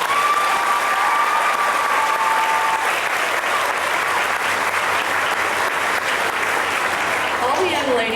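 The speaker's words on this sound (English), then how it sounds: "Let's give them a round of applause." An audience at a county fair queen contest applauds loudly and continuously for the girls, with a few cheers and a voice rising above the clapping early on and again near the end.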